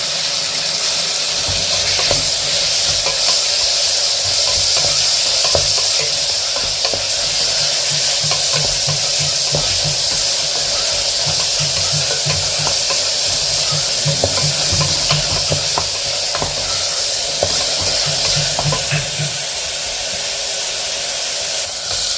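Green chilli, garlic and ginger sautéing in oil with tomato in a pan, making a steady, loud sizzle and hiss with occasional stirring scrapes throughout, close up and without talk.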